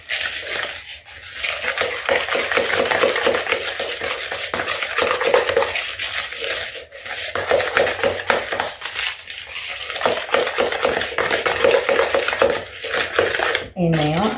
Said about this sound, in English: Stir this up really good.